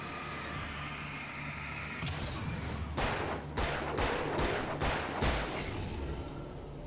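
A flashbang going off in the video game Alan Wake makes a sudden loud burst, followed by several sharp cracking bangs over a low background hum, with no speech.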